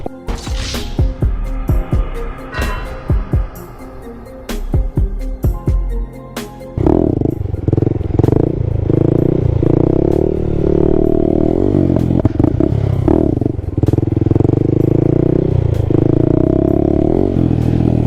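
Honda Grom motorcycle riding a wheelie on wet pavement, its small engine revving in choppy bursts at first, then holding a steady loud drone close by.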